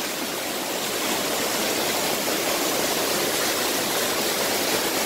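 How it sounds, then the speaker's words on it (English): A waterfall in Kings Canyon, California, gives off a dense, constant roar of crashing water, loud and close from the base of the falls, with no other sound standing out for five seconds. "but I am at the bottom of the waterfall."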